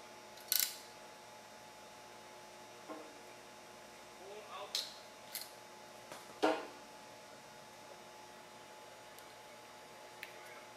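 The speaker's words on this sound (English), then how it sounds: "Start off by cutting the jacket off of the wire." Cutters snip and strip the jacket off Cat5E network cable in a few faint, sharp clicks and snips spread across quiet background.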